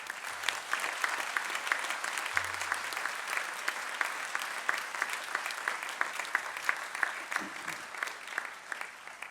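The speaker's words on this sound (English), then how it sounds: "a round of applause for the families and friends." Sustained applause from a university graduation audience honouring families and friends, a steady dense patter of many hands clapping filling the hall for the full stretch without speech.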